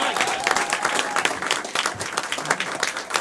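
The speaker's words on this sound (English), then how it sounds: "Let's clap for them." A crowd at a live game show event claps for the first two players coming up, a dense, close burst of applause lasting the whole moment.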